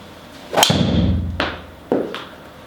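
A Ping G LS TEC driver strikes a golf ball with a sharp, loud impact, followed by a whooshing flight; two further fainter thumps come after.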